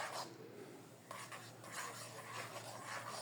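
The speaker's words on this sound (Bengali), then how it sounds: "ঘি বানাতে অনেক সময় লাগে, আর অনবরতই নাড়তে হয়" A spoon stirs and scrapes homemade ghee in a cooking pot, giving continuous soft metallic rubbing and clinking over a faint steady hum, with no one talking.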